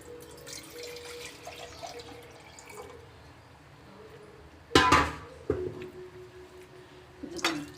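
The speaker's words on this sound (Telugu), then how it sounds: "ఇంకొన్ని వాటర్ వేసుకుందాం." Water is poured into a pan of blood curry as it cooks, giving a short splashing burst with a second brief splash a little later over low kitchen background noise and faint clinks.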